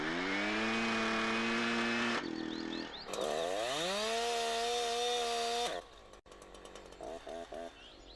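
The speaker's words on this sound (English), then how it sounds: "The chain brake stops the chain in the event of a kickback." Husqvarna chainsaw revving loud and close with a steady engine whine, cutting out abruptly as the chain brake engages, then revving again before dropping to a rough idle with scattered mechanical clatter.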